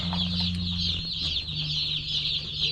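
Baby chicks in a brooder, a dense chorus of high, rapid peeping that carries on without a break, with a few soft low clucks underneath.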